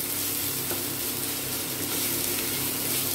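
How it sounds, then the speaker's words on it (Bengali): Bitter gourd sizzles steadily in hot oil in a pan as it is stirred for a Bengali uchhe chapor ghonto, giving a loud, continuous frying hiss with no talk. "এবার উচ্ছেটা দিয়ে দেবো। দিয়ে এরকম নাড়তে হয়।"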